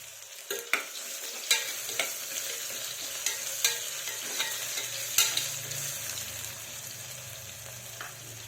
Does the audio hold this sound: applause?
no